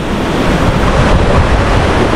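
Heavy rushing water of Dunhinda waterfall, a steady broadband roar that stays loud and constant throughout with no voices.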